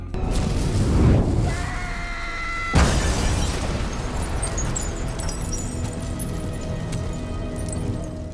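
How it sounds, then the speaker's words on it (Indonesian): A car explodes in a film: a heavy boom bursts out near the start, then a second loud blast hits, followed by a rumbling, crackling aftermath with debris-like clatter. "mobil itu meledak dan menewaskan Charlotte yang ada di dalam"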